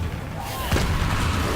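A Confringo fire spell explosion in the Hogwarts Legacy video game: a brief rising whoosh ends in a sudden booming burst, followed by sustained loud, crackling rumble, with a voice talking faintly beneath.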